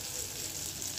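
Chicken shami kababs frying in a pan, giving a brief, even sizzle at low volume with no voices.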